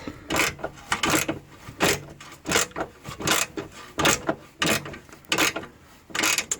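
A car heat shield on a 2012 Honda Accord being cut, with a regular series of about a dozen harsh rasping strokes, close and loud, no speech.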